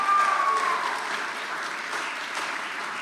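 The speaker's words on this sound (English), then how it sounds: "All right, round of applause." Applause from a school chapel audience, a dense, even roar of many hands clapping that holds steady throughout, with a brief faint tone at the start.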